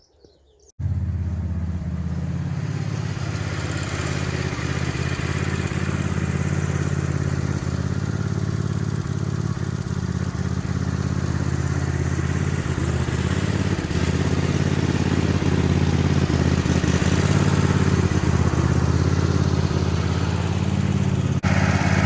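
Little red tractor engine starts up and idles steadily at close range, a loud continuous rumbling drone, with faint birdsong in the background.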